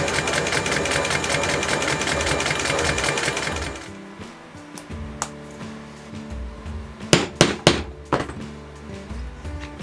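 A sewing machine running a continuous fast stitch on leather rucksack straps, loud and close, then stopping, followed by scattered thunks and knocks as the material is handled.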